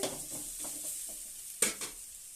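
Spice powders fry and get stirred in a pan for tomato rice, a soft steady sizzle with gentle scraping strokes and one sharper clink near the end.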